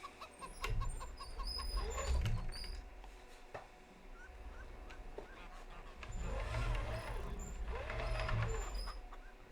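Poultry clucking and calling in the Farming Simulator 25 video game, moderately faint over a low, rumbling farm ambience, with a couple of louder clusters of clucks recurring across the scene.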